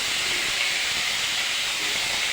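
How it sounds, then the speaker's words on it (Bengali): Potatoes frying in hot oil give a steady, loud, hissing sizzle that fills the whole clip with no pauses or voices. "তেল তো আলু ছাড়া হচ্ছে, এবার এগুলো লাফাবে।"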